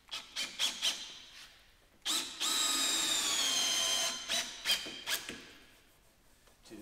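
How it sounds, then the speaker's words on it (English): A Bosch 18-volt FlexiClick cordless drill drives screws into timber, with short close bursts, then a sustained whining run of about two seconds, then more brief pulses. "This is the new Bosch 18-volt FlexiClick"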